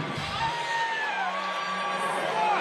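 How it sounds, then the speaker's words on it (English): Crowd cheering at a boxing event: loud, continuous whoops and shouts from many people in an arena, sustained throughout. "Wolf wants the cheers for the glove."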